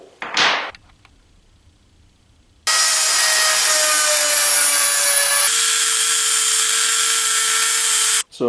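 A Dremel rotary tool grinds grooves into a rifling button, a loud steady high-pitched whine held for several seconds with a pitch drop midway, following a short scrape and brief quiet.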